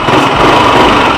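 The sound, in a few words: Yamaha NMAX 155 scooter engine and throttle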